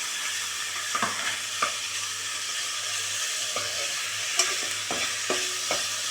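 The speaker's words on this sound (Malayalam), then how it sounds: "ഇനി ഇതിനെയും കൂടി ഒന്ന് നന്നായി ഒന്ന് വഴറ്റുക." Chicken, about 250 grams, sautéed in a pan with steady sizzling throughout and several sharp scrapes and clinks of a spoon stirring, without talk.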